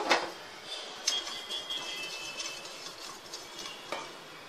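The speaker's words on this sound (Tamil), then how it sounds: "இப்போ கோதுமை குருணையை அதில் போட்டு அதை லேசாக வறுத்து எடுத்துடலாம்" Broken wheat being lightly roasted in a pan, with faint dry rustling and stirring scrapes, a few light clinks, and soft taps at intervals.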